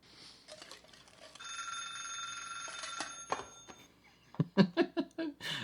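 A telephone rings in a TV drama scene, a sustained electronic trill that starts a little over a second in and lasts about two seconds before breaking off, followed by louder voices nearby.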